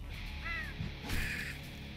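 Crows caw in the video game Slain: Back from Hell, two harsh calls in quick succession over a steady droning game soundscape, fairly faint.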